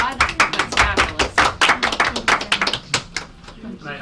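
A small audience at a Cohasset town board of selectmen meeting claps, a quick burst of fairly close, sharp handclaps that thins out toward the end.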